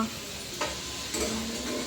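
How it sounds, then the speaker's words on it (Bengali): Food fries in a pan in a home kitchen with a soft, steady sizzle and a couple of brief stirring scrapes, fairly quiet and close, with no talking. "দেখো এখানে কিছু কিছু ভাজা হচ্ছে"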